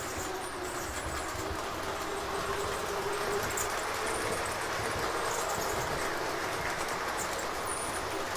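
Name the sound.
O-gauge model train running on layout track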